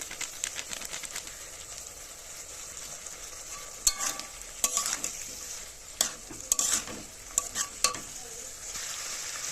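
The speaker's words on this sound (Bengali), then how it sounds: "আদা রসুন পেস্ট দিয়েছি, তার জন্য আমি আরও একটু কষিয়ে নেব।" Ginger garlic paste and garam masala stir-frying in a pan, a quiet steady sizzle broken by repeated scraping and clinking of a spatula against the pan, no speech.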